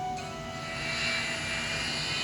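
Airplane cabin drone in a video game, an airliner in flight before landing in Hawaii, with a steady engine hum and whine, moderately loud and continuous and without talking.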